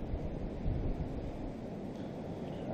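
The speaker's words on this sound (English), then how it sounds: "It's getting real windy." Strong wind on a snowy night roars steadily as broadband rumbling gusts, with heavy buffeting across the microphone throughout and no voices.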